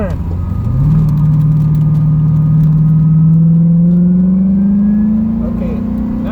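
A C4 Corvette on a race track pulls away under throttle, its engine note climbing steadily and loudly from low to higher pitch, with a brief spoken voice in the background.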